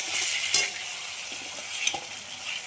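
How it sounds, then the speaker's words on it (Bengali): Spice paste sautés in oil in a pan, giving a steady close sizzle and crackle with a few sharper spatters and stirring scrapes along the way. "দেখতে পেয়েছ মশলা কষে তেল বেরিয়ে এসছে।"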